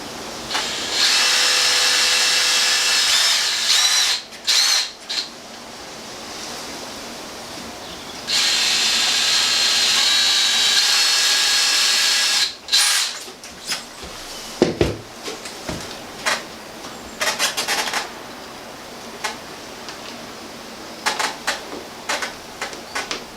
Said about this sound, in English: I'm going to just drill a couple of pilot holes.